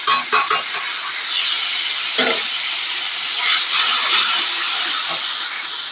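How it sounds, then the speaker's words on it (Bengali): A spoon stirs tomato paste with ground ginger and dried chili paste in a hot pan, giving a steady loud hiss and sizzle with a few scraping knocks near the start. "টমেটো পেস্টটা একটু নাড়িয়ে দেবো।"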